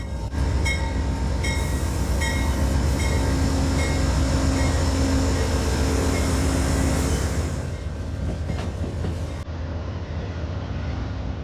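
Amtrak Lake Shore Limited train cars being coupled together rumble steadily nearby with metallic clanks and a faint squeal before the noise eases off toward the end.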